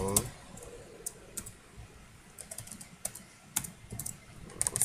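Keys clatter on a computer keyboard in irregular bursts of quick clicks, fairly close and moderately loud, with short pauses between runs of typing.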